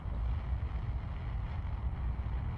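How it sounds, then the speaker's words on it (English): Rocket engines roar at launch in Kerbal Space Program, a solid-fuel booster burning as a steady, loud, deep rumble that holds without a break. "Listen to the roar of those engines."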